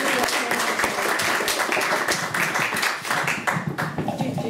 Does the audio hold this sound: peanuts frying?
no